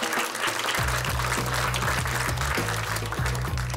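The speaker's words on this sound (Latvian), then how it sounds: "Aplausi!" Audience applause at a televised science quiz final, a steady dense clapping wash that fills the clip, with rhythmic low musical tones underneath.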